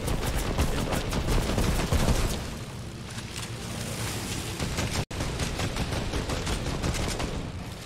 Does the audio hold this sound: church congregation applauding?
no